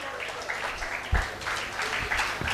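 An audience at a national-level STEM competition event gives sustained, dense applause, a continuous crackling roar of many hands at moderate distance.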